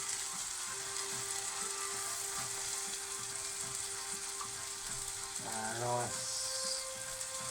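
Ghee sizzles in a pan with a steady, close hiss and crackle that runs through the whole stretch, with a faint rhythmic mechanical ticking underneath and a brief low whine near the end.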